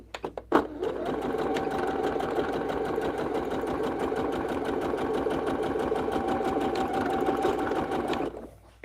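A sewing machine stitches quilt strips in one long steady run, its rapid even needle chatter loud and close, starting after a few clicks and stopping near the end.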